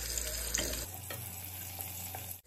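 Chopped small onions sizzle in hot oil for a pongal dish, a soft steady frying hiss close by with a few faint clinks and no talking.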